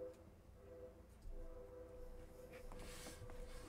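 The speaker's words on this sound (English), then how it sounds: "There's the second train." A video game train passing in the distance during a long race, a faint low rumble with a steady tonal hum, no speech.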